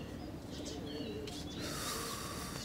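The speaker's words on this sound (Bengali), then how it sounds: "সব কবুতর ভাগতেছে এক এক দিকে বাজের ভয়ে।" Pigeons scattering in fear of an attacking falcon, with a dense flurry of wing flaps and faint bird calls over steady outdoor background noise, growing busier toward the end.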